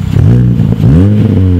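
A 2006 Mini Cooper idles and revs through its Megan Racing cat-back exhaust on stock headers, giving a loud, close, deep burble that rises and falls in pitch over two short blips, with no talk.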